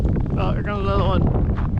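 A strong wind gust during an Alaska windstorm buffets the microphone with a steady roar, and a person speaks briefly amid the blowing.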